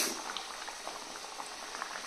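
Spinach puri frying in hot oil, a soft, steady bubbling sizzle with small crackling pops, fairly faint and continuous.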